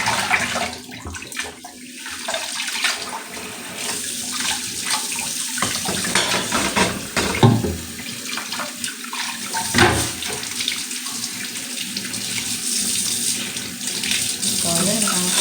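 Tap water runs steadily into a kitchen sink while meat and liver are rinsed by hand, a continuous close splashing and trickling with brief clatters and faint speech mixed in.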